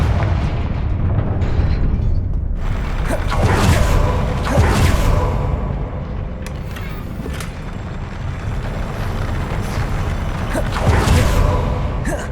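Confringo fire-blast spells bursting in a Hogwarts Legacy battle, a dense roaring wall of booming explosions and whooshes with repeated louder blasts, loud and continuous throughout.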